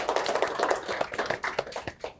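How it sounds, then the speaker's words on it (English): Brief round of applause from a conference audience for the organizers, a small group clapping steadily and fairly close for about two seconds, with no talking over it. "can we give a mini round of applause for the organizers?"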